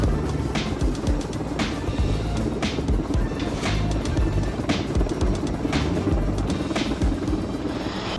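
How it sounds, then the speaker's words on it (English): Steady low rumble of a helicopter carrying a massive AC unit, with rhythmic rotor thumping, loud and continuous throughout with no talking. "The helicopter struggled to transport a massive AC unit."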